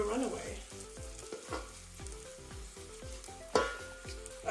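Pork sizzling and frying with rendang paste in an Instant Pot, a steady close crackle broken by repeated scraping stirs and one louder clatter near the end, with no talking.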